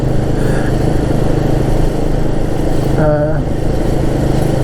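A Royal Enfield Guerrilla 450 motorcycle engine runs with a loud, steady drone throughout, near and constant, with a brief whine rising over it partway through.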